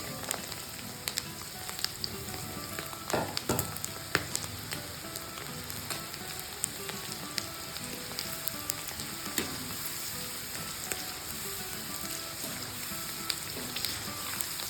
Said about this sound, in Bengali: এইভাবে হাই হিটে গোল্ডেন ব্রাউন করে ভেজে নিই।